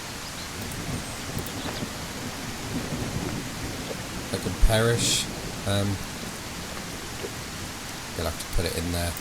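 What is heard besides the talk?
rain falling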